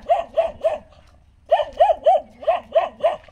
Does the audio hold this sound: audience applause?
no